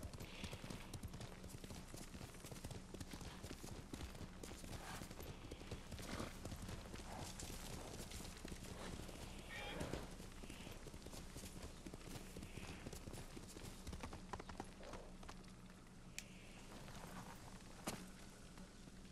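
Horse hooves in the video game Ghost of Tsushima, a steady run of clip-clop beats, quiet and continuous under game ambience, with a few sharper thuds along the way.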